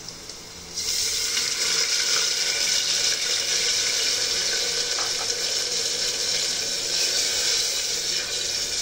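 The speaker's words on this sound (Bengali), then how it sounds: "এখন দিয়ে দেবো সামান্য পরিমাণ পানি" Water pours into a pan of fried onions, producing a sudden loud, continuous hiss and rush that starts abruptly after a brief quieter moment and stays steady and close throughout.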